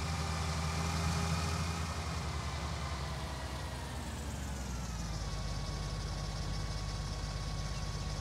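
An old Massey tractor engine idles in the Farming Simulator video game, a continuous, even drone that dips slightly in pitch partway through and stays steady, with no voices.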